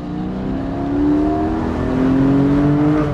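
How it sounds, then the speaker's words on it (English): A Porsche 718 Spyder's exhaust drones steadily and loudly, the engine note rising in pitch as it revs up, with no voices over it. "So let's get some more exhaust note."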